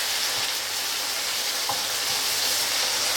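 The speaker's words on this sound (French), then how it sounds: "que l'oignon juste se colore, mais pas qu'il soit trop foncé" Onion frying in a pan, a steady close hiss of sizzling oil with faint scraping and stirring, continuous and fairly loud without talk.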